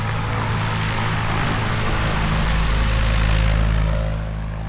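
A Boeing Stearman biplane's propeller engine drones loud and close at a fly-in airfield, a steady rough roar that swells slightly before easing off.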